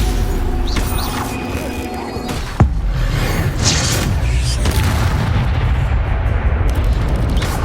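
Spell casts and impacts from Hogwarts Legacy combat: a sharp booming hit near the middle among whooshing, rumbling magical blasts, loud and dense throughout with no talk.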